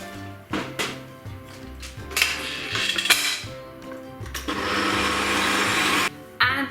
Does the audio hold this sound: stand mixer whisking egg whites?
yes